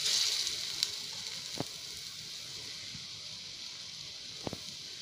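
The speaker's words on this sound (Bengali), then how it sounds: "এবার তেলটা গরম হয়ে গেছে, এবার আমি তেলের মধ্যে এক একটা ঢ্যাঁড়শ দিয়ে দেব এইভাবে" Stuffed okra coated in gram-flour batter fries in hot oil, giving a faint, steady sizzle with a couple of soft pops.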